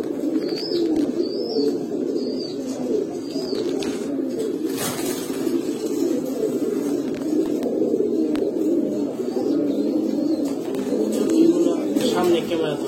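Continuous close cooing from a flock of Pankhi, Grizzle and Baghdadi Homa pigeons, with a few thin chirps and a brief knock partway through, while someone speaks faintly underneath.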